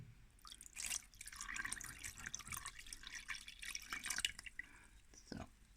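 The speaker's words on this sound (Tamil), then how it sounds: "இப்போ தண்ணி 200 மில்லிலிட்டர்" About 200 ml of water is poured into a bread dough mix of spelt and wheat flour in a bread machine pan. The result is a soft, close, trickling splash with faint drips, fairly quiet throughout.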